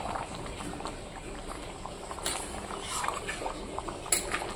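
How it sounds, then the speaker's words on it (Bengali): Meat curry simmering in a pot with hot water gives soft, close bubbling and popping that runs throughout, with a few light clinks. "দেখো টকবক টকবক করছে সুন্দর।"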